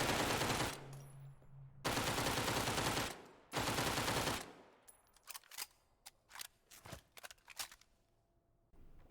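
Uzi submachine gun fire in the survival video game Dead Matter: three long, loud automatic bursts, followed by a scatter of sharp single shots and short clicks.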